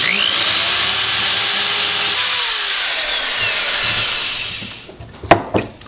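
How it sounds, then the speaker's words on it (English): A power drill bores holes through wood to take nails for a spiked trench club, a loud continuous grinding whine that winds down near the end, followed by a few sharp knocks and clatters. "I'm going to start drilling some holes"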